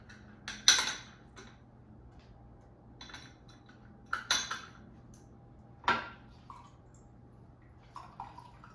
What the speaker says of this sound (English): now whisk lemon juice and olive oil with a fork